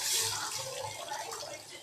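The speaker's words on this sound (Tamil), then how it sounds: "நெக்ஸ்ட் வந்துட்டு வாட்டர் ஊற்றிக்கலாம்." Water is poured steadily into a cooking pan for Korean noodles, giving a continuous splashing stream at close range with no break.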